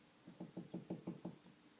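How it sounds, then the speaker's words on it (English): A run of six quick, evenly spaced knocks on a door, muffled and fairly faint, with no one speaking. "I got a knock on my door"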